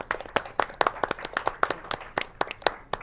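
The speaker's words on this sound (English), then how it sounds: "Let's have a round of that applause" A small audience gives a round of applause, sparse and distinct hand claps in an uneven rhythm, close and fairly loud.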